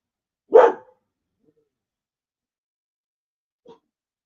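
A single sharp dog bark breaks a quiet room, then a much fainter short yip follows a few seconds later.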